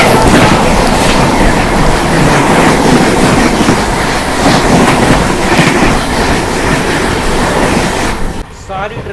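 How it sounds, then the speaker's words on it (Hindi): The Jharkhand Swarna Jayanti Express passes at high speed while crossing the Shiv Ganga Express, with a loud, continuous roar and rhythmic clatter of wheels close by that drops off abruptly near the end. "सामने से आ रही है झारखंड स्वर्ण जयंती एक्सप्रेस शिवगंगा एक्सप्रेस के साथ शानदार क्रॉसिंग।"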